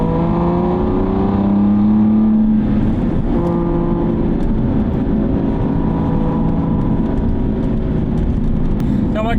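An Aston Martin V12 Vantage engine hums and revs loudly and steadily, its tone rising and falling in drawn-out sweeps with a constant roar of road and wind noise underneath.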